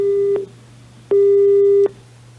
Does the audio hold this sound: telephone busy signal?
yes